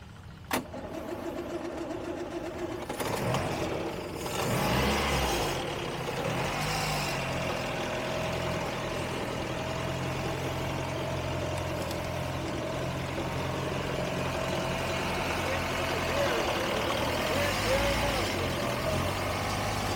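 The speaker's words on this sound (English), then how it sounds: "I asked him to start the car so we can hear the sound of it." A classic MG car engine cranks and catches with a burst of revs, then settles into a steady, low, rumbling idle close by, while people talk in the background.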